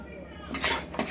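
Spoon scraping and clinking in a pan while a coconut and jaggery mixture is stirred until the jaggery melts, a few close scrapes and clinks over a quiet background.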